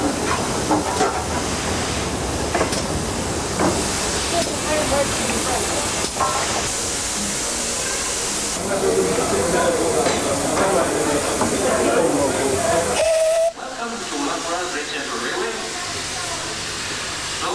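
Loud, continuous hiss of steam from a British steam locomotive on a heritage railway, with heavy mechanical rumble and clanking, a voice briefly heard, then a lower steady hiss after a sudden drop.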